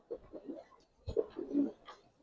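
Giribaz pigeons, silver khaki birds kept in a loft, give a few low, soft coos in short bursts with brief pauses, close by and fairly quiet, with faint background rustle.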